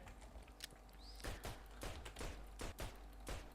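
Rapid bursts of gunfire in a Roblox video game come as repeated close pops in quick runs over a steady low hum, with no talking.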